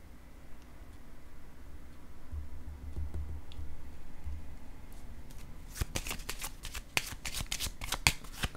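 Tarot cards are shuffled, giving a soft steady riffling rustle, and then laid down with a quick run of crisp snaps and taps near the end. The sound is close, with no talking over it.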